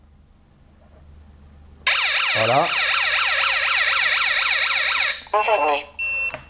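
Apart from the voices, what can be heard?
home security alarm siren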